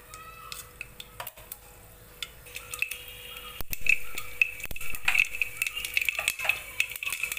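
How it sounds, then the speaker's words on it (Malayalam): Mustard seeds crackle and pop in hot oil inside a pressure cooker, with a quick run of sharp, scattered clicks and spits that pick up pace and loudness partway through, close by, along with light metallic clinks. "അതിലേക്ക് നമുക്ക് 1 ടീസ്പൂൺ കടുകിട്ട് പൊട്ടിച്ചു കൊടുക്കാം."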